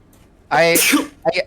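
A single sharp sneeze bursts out close by, followed by a brief softer exhale, with a faint room murmur of a tabletop game gathering behind it.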